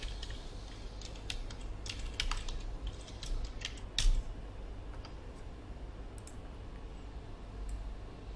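Keys on a computer keyboard tapped in short bursts while a title is typed in, light quick clicks near the microphone over a quiet background hum, with no talking.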